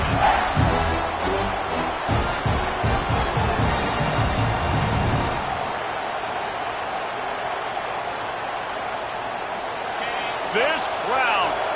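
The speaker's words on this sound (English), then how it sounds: "This crowd, full throat, splitting the eardrums and letting them know it's going to be a long day." Stadium crowd at a college football game involving FSU roars loudly and continuously, a dense wall of noise under a play-by-play announcer's voice, easing slightly in the second half of the clip.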